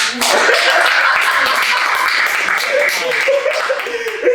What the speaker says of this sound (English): Give Dirk a hand clap.